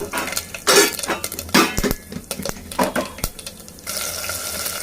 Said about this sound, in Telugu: ఇప్పుడు మనం స్టవ్ మీద గిన్నె పెట్టి నూనె వేసి పోపు గింజలు వేస్తున్నాం